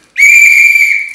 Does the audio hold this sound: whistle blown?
yes